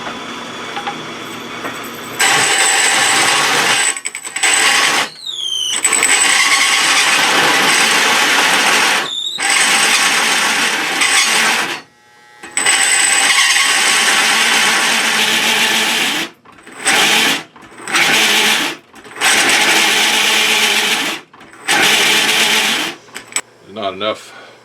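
A handheld drill with a carbide-tooth bit and no pilot bit cuts into metal, running in loud, long grinding stretches broken by several short stops and restarts.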